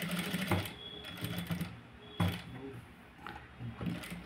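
Sewing machine stitching piping onto a blouse: a soft, close, uneven mechanical whirr with light clicking pulses, no talk.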